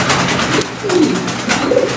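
A male GNS pigeon coos close by, a few low throaty rolling calls in quick succession over a faint room hum.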